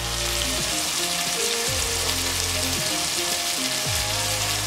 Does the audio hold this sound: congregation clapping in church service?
no